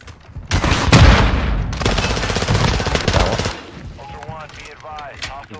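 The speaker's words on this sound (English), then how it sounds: "somebody is shooting in there" Loud automatic gunfire in the DMZ shooter game, with a heavy burst followed by rapid rattling shots that fade out, and voices briefly audible afterward.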